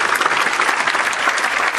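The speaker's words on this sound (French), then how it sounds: "C'est quand même à applaudir." A crowd at a general assembly breaks into loud, dense, continuous clapping that fills the whole moment without letup.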